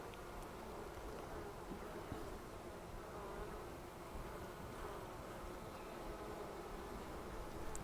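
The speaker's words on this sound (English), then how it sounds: "just looking and watching the bees" A steady, soft buzzing of many honey bees in a queenless hive fills the air continuously, faint and droning with no voices.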